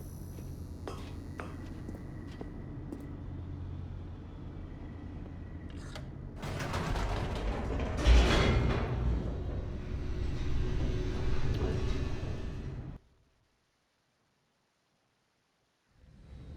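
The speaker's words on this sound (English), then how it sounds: "The elevator raced downward" Elevator in The Stanley Parable descending: a low steady hum with mechanical rattles builds into a loud, rushing rumble with a clunk near the middle, then cuts to silence before a faint restart at the end.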